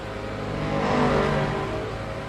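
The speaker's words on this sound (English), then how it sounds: "Chapparal noises." A Chaparral race car engine in the racing game Assetto Corsa, during a historic sportscar Le Mans race. A loud, sustained engine roar swells slightly as it revs, then holds steady, with no talking.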